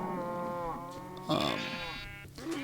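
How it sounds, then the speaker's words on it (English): Sheep bleating in an animal pen of sheep and cows in the Minecraft video game, a few harmonic bleats close up with a louder burst in the middle, heard alongside background game sounds. "We got my animal pen over here, which is just sheep and cows."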